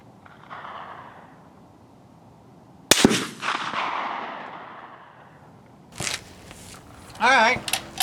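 Gunshots at an outdoor shooting range, with sharp loud reports near 3 s and 6 s, each trailing off into a long echo, and a brief voice heard between shots.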